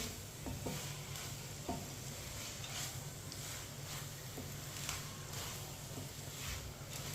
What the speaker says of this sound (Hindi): इसे 2 मिनट के लिए ऐसे ही पका लेंगे चम्मच चलाते हुए